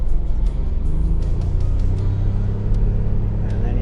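A 2023 John Deere Gator 835R utility vehicle drives along at steady speed, its engine giving a loud, close, continuous low rumble with little change in pitch.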